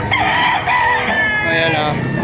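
Roosters crow and chickens cluck at a budget poultry market in Padre Garcia, Batangas, where stags and gamecocks are sold; crowing overlaps from several birds, loud and close, with steady crowd murmur beneath.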